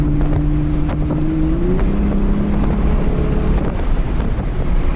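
A Jeep Gladiator engine at full throttle drones steadily and loudly, its pitch climbing as it accelerates, with heavy wind rushing over the microphone throughout.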